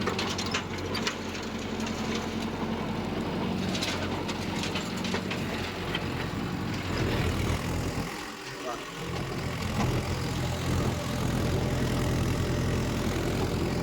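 A Mahindra Yuvo Tech+ 585 tractor pulling a rotavator in a field, a steady heavy engine drone with continuous mechanical rattling and clanking, loud and close, with a voice heard at times over it.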